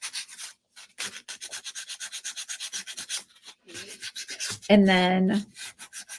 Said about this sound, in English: Okay, so I'm going to sand these.